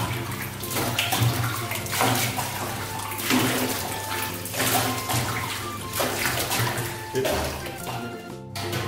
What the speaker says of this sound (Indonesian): Airnya sudah bisa dibuang sampai airnya habis, tetap diguyur-guyur terus.